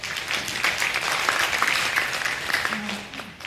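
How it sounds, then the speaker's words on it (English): An audience at an academic lecture applauds to welcome the speaker, steady moderate clapping with a few voices faintly audible underneath, tapering slightly at the end. "let's give Dr. Wang a round of applause"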